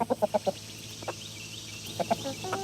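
Backyard chickens cluck in a quick run of short, close calls, followed by a pause and then a few more scattered clucks.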